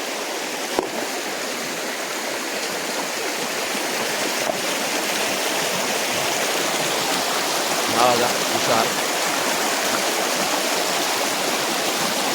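Steady rushing of flowing river water at Harkul Dam, a continuous broadband wash that stays loud and even throughout, with a faint voice or two surfacing briefly near the end.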